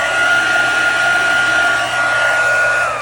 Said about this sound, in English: So I'm just gonna dry this first with my heat tool.